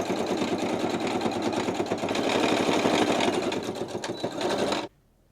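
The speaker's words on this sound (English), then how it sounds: "I'm going to fold it towards the pocket and just run a stitch on top of the seam allowance" A sewing machine runs a stitch on top of a seam allowance, its rapid needle chatter loud and continuous for almost five seconds before stopping abruptly into silence.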